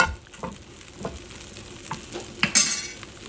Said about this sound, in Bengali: পিঠাগুলো এখন আমি ফ্রাই করে নিচ্ছি